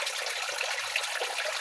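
Water flowing in an outdoor natural setting, a steady broadband rush or trickle that runs continuously through the short stretch at an even, moderate level with no voices.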